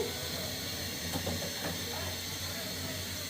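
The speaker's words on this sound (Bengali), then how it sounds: "এখানে আমি ইলিশ মাছটা হালকা ভাজি করে নিব" Hilsa fish lightly frying in a pan on the stove, a steady close sizzle and hiss with faint pops throughout.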